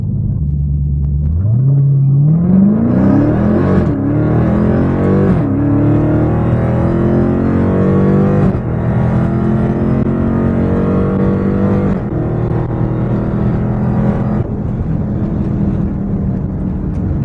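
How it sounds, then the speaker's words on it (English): A Dodge Challenger Hellcat launches in first gear on a drag strip at a Mopar festival, its engine roaring up loud and close through rising revs and gear changes over a sustained rumble. "we get to make our first baseline pass with the first gear launch here in the Hellcat"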